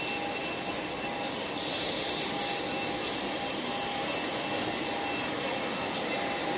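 A TGV high-speed train with an Ocean-like trainset rushes past as a steady, broad, airy roar that holds level throughout, with a faint whistling tone riding over it and no voices.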